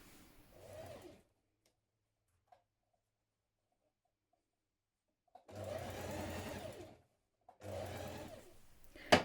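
A sewing machine stitches a seam on a child's dress in three bursts of quick mechanical whirring, split by near silence and ending on a sharp clunk.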